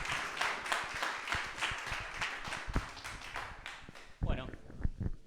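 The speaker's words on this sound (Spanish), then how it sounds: "Fuerte aplauso." A conference audience applauds steadily, a dense patter of many hands clapping for about four seconds before thinning to a few scattered claps at the end.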